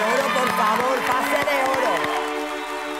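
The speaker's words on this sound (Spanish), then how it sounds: "Este aplauso por todos vosotros." Studio audience at a televised talent show audition applauding and cheering loudly, a dense crowd roar with tonal voices and music running underneath.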